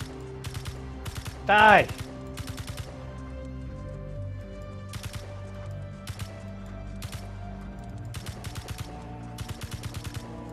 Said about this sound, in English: I'm shooting a mountain right in front of me